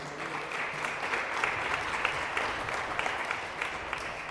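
A church congregation claps together in steady, sustained applause, a dense wash of many hands filling the room at moderate loudness.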